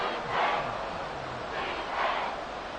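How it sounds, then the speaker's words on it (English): Crowd in a Madden NFL football video game stadium on PS5 roaring late in the game before the two-minute warning, a steady, dense wash of cheering that swells twice, distant and moderately loud, with no talk over it. "This crowd turning up the decibel level"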